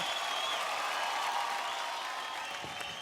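Faint, steady applause from a studio audience at a televised Marathi dance competition, an even wash of clapping that holds for a few seconds without talk.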